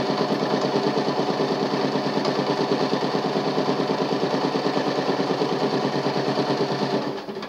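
A sewing machine runs steadily while stitching a skirt seam at a 5/8 allowance, its fast, even mechanical chatter close and continuous for about seven seconds before slowing to a stop.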